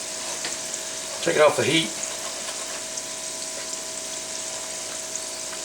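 White gravy fries and sizzles in a pan with a steady soft crackle, broken by a brief burst of stirring and scraping; a person speaks briefly over it.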